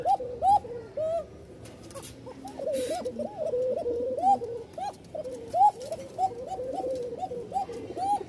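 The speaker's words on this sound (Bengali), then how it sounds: "একদম চিকন ডাক ভয় পাচ্ছে" Repeated thin, arching calls from a frightened pigeon, a Rajshahi Giribaz bird on a farm, come in quick bursts close by, with short gaps and faint background noise.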